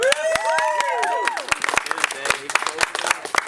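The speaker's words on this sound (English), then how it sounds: "Applause for the very, very funny Dave Welfare." A small crowd at a casual front-porch comedy show applauds comedian Dave Welfare; voices whoop and call out at first, then scattered, distinct claps from a handful of people continue close by.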